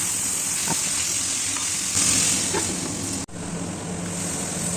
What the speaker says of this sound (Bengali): ওই তেলে ফোড়নে শুকনো লঙ্কা, 5 ফোড়ন, জিরে দিয়ে সবজিগুলো ঢেলে পরিমাণ মতো নুন দিয়ে নাড়াচাড়া করে ঢাকা দেব কিছুক্ষণ